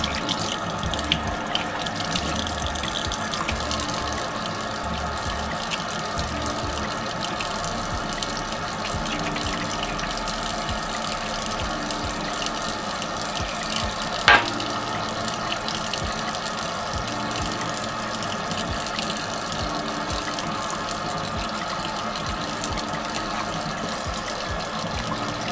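Water runs steadily from a sink faucet, a soft continuous hiss and trickle at low level throughout, with one brief sharp tap partway through and no talking.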